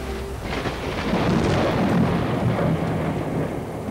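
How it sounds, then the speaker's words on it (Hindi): Heavy rain pours in a loud, continuous wash, with a deep rumble like thunder swelling through the middle. "बहुत तेज बारिश हो रही है।"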